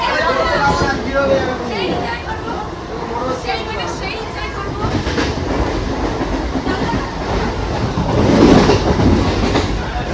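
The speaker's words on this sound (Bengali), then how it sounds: "ফাইনালি আমরা ট্রেনে উঠে গেছি" A moving passenger train bound for Digha rumbles and clatters steadily along the rails, with people talking over the noise throughout.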